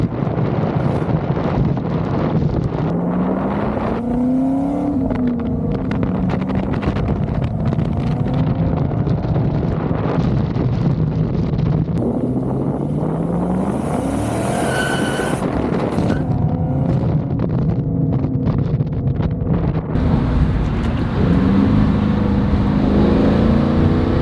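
A Camaro SS with a naturally aspirated V8 drives steadily under heavy wind buffeting, its engine note rising and falling through gear changes, with the clutch slipping on one shift.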